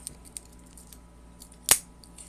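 Victorinox Swiss Army knife scissors handled up close: faint light ticks, then a single sharp metallic snip, fairly loud, with no talk.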